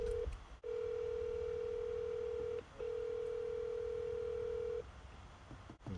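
A telephone ringback tone sounds while an outgoing call connects, two long steady beeps separated by a short pause, clear and even in level, with a faint click before the first beep.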